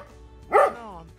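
A single dog bark rings out, clear and moderately close, in quiet vineyard countryside near La Morra in Piedmont, with a faint tonal hum trailing after it.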